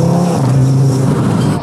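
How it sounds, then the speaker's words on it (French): A car's turbo spools up under hard acceleration, a loud, close, steady engine roar with a rising tonal whine that holds throughout. "le turbo quand il charge c'est incroyable"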